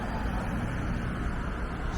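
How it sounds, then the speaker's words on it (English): Steady broadband rumble of a long line of cars streaming westbound along a city street at night in Toronto's Yorkville, continuous traffic wash with no distinct pass-bys, fairly loud and constant. "Now we've got a long row of cars"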